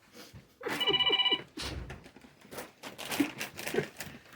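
An electronic telephone ring sounds in a short burst indoors at a dinner table, mixed with intermittent crinkling from a bag of chips; the crackle continues in scattered bursts after the ringing stops.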